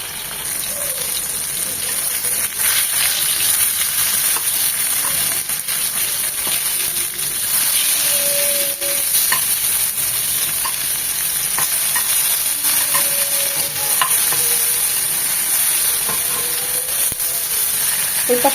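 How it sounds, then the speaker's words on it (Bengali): Sliced tomatoes fry in a pan for a cauliflower bharta, a steady close sizzle that runs without a break, with faint scrapes of stirring now and then and no voices. "একদম ভাজা ভাজা করে, এমনভাবে ভাজা ভাজা করে করবো যেন এটা সেদ্ধ হয়ে যায়"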